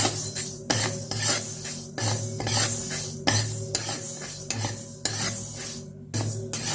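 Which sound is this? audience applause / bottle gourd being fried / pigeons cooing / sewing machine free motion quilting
bottle gourd being fried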